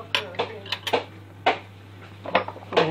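A spoon stirring rice porridge in a pot while salt goes in, sharp metallic scrapes and clinks coming in irregular bursts, close up and fairly loud.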